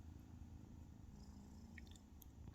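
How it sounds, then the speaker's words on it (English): Cat purring close up, a faint, steady low rumble without pause through the whole short stretch, with no talk over it. "Her purr is so loud."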